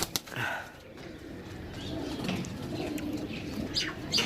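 Pigeons of a dera loft in Gujrat, Pakistan cooing softly amid bursts of wing flapping, with low murmuring coos and flutters close by over a steady outdoor background.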